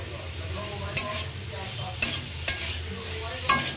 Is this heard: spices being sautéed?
yes